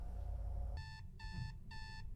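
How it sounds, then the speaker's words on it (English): An alarm clock rings inside a horror hide-and-seek video game, a bright electronic tone repeating in three even bursts over a low rumbling game background, with no talking. "Okay, I really need to turn this alarm off."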